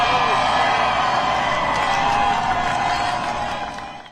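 A large outdoor crowd applauds and cheers steadily at Donald Trump's departure from the White House, a loud continuous wash of clapping and shouts that fades slightly toward the end.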